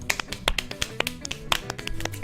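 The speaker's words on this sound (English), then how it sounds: "Clap, so I'll give you a general idea here" Hands clapping at a steady pace, a quick run of sharp, close claps and taps, fairly evenly spaced.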